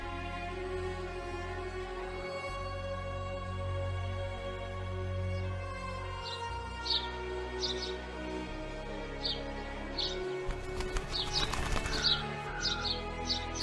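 A bird flaps its wings amid a layered animated-scene soundscape, with soft chirps and a burst of fluttering near the end over sustained background music.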